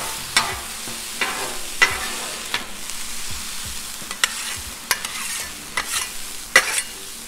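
Garlic and vegetables sizzling on a Blackstone flat-top griddle at medium-low heat, a constant crackling sizzle punctuated by sharp spatula scrapes and taps, close-up with no speech.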